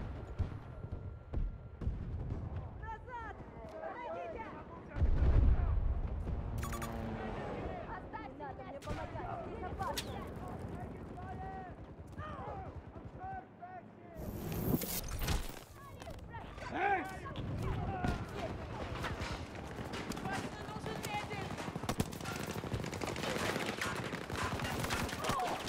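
Gunfire in the video game Battlefield 2042 sounds as scattered shots and rapid bursts, with a heavy blast near the five-second mark, set under nearly continuous talk from a player.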